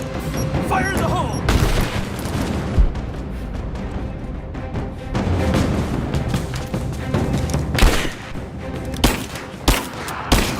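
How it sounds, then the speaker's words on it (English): Heavy combat gunfire in Rise of the Tomb Raider: a dense, loud, continuous fusillade of rapid shots and booming impacts that runs the whole stretch, with occasional sharper bursts standing out. "Keep firing! I'm under fire!"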